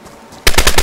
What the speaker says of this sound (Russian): Я не понимаю, откуда он стреляет по мне.